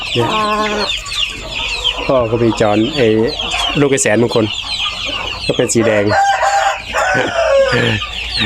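On a chicken farm, hens cluck and roosters crow loudly and close, overlapping calls repeating throughout while someone talks over them.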